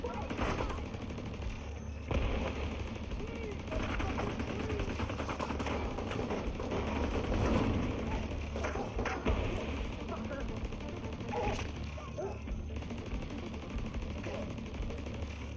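An automatic turret fires on enemies in a video game, with sustained rapid machine-gun bursts that continue steadily and fairly loud over a dense background of combat noise.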